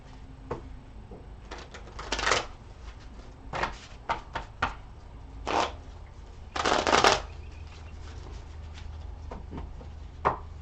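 Tarot cards shuffled by hand in a quiet room, several sharp riffling bursts separated by short pauses and softer card taps, close and fairly loud.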